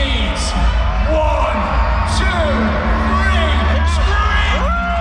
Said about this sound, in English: on the count of 3, make as much noise as you can